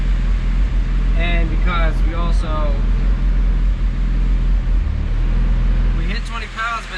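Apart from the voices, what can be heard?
turbo D16 Honda EF hatch engine during fourth gear dyno pull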